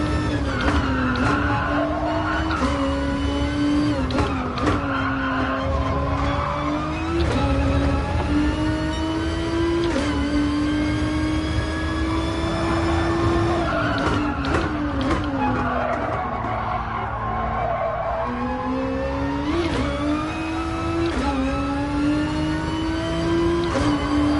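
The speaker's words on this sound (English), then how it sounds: "Just that tyre squeal, I don't know how it's going for you guys, but it's so annoying, so loud." Racing cars in Gran Turismo Sport at Suzuka, tyres squealing almost continuously over a loud, sustained engine drone with shifting revs throughout, no voices.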